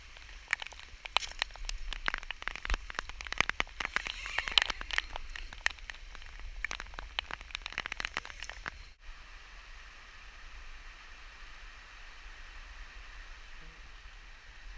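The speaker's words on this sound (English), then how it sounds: "I'm not sure if you can hear the rain pounding on the outside of the fly sheet" Dense, steady rain drums on a taut tent fly sheet nearby, a constant hiss with sharp patters, then it softens and muffles partway through.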